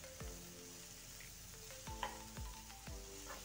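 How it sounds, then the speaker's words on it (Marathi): Spring onion greens fry in oil in a pan for a besan pitla, a soft steady sizzle with occasional scraping stir strokes, quiet and close. "ही पात ही आपल्याला तेलामध्ये छान भाजून घ्यायची आहे"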